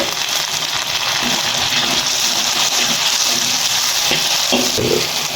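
Tomatoes tipped into ginger-garlic paste frying in a pan for achari chicken give a loud, steady sizzle that fills the whole stretch, with faint stirring scrapes near the end.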